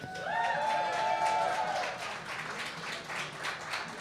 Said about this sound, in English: We have a big crowd here because everybody's excited.